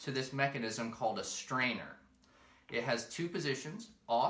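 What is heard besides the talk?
No everyday noises stand out.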